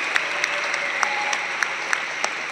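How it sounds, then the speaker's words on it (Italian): An audience applauds to welcome film director Silvio Soldini, steady clapping from a crowd with a few sharper, closer claps standing out at intervals. "che pregherei di accogliere con un applauso"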